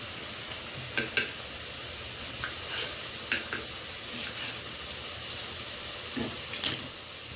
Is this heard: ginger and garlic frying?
yes